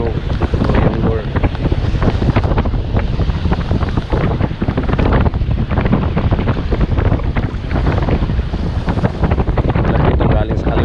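Strong wind buffeting the microphone on a windy morning shore in San Juan, Batangas, a loud continuous roaring rumble with gusting bursts and surf faintly underneath.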